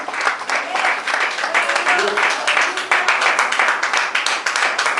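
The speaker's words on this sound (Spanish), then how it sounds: "Denle un fuerte aplauso" A church congregation breaks into loud, vigorous clapping during a Spanish-language service, a dense wash of hands filling the room with voices mixed in.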